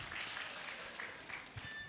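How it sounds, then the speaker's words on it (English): Faint, distant applause rises from the audience at a midwives' scientific conference in Kenya, a soft, even patter of clapping that lasts the full two seconds with no clear talk. "A clap for them."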